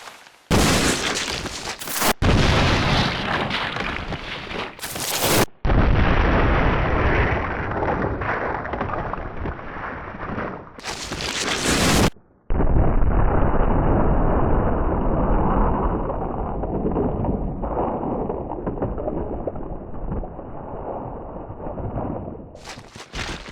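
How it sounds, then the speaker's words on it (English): Explosive headshots in the Resident Evil Zero video game come as loud, sustained booming blasts, each lasting several seconds and cutting abruptly into the next, with no talk over them. "Let's do the explosive headshot now."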